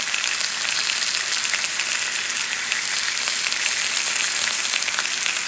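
Chicken fries in a pan with a continuous bright crackling sizzle, steady and close, with no voices over it.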